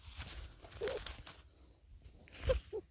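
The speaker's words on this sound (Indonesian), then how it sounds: "Tekukur lagi ngadem lur." A spotted dove (tekukur) coos faintly outdoors during a hunt, giving a few soft low coos amid rustling and light background noise.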